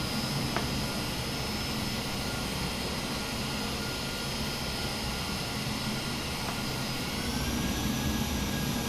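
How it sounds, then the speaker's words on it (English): Airbus A321neo jet departing from runway 28 in winter, heard as a steady, continuous engine roar with a faint high whine, sustained and fairly distant throughout with no talk. "The 321 Neo is departing."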